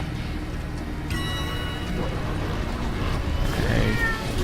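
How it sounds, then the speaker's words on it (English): A cat cries out loudly in a few drawn-out, strained meows over a steady background hum. "I don't know if you can hear my cat screaming as loudly as he can right now."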